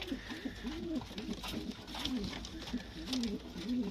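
Soft, repeated pigeon coos in a low, rounded rhythm from inside a breeding coop, close by and fairly quiet over faint background noise.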